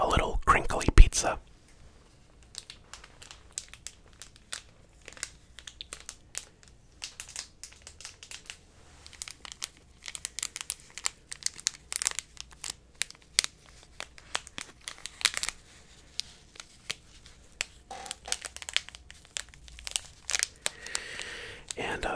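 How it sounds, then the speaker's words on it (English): Small crinkly pizza-shaped toy being squeezed and crumpled close up in a quiet room, with dense irregular crackling bursts and a soft whisper over it near the start. "Next up, we have a little crinkly pizza."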